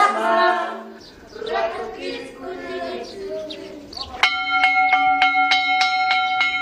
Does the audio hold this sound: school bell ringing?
yes